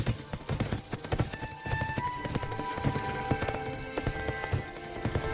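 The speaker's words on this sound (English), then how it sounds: "they climbed onto the prince's horse and rode toward the castle at last" Horse hooves clip-clop at a steady trotting rhythm, close and fairly loud, as a prince and a young woman ride toward a castle in an animated fairytale, with soft music underneath.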